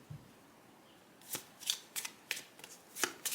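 Tarot cards being shuffled by hand, a series of crisp riffling bursts at irregular intervals after a quiet start, close and soft, with no talking over them.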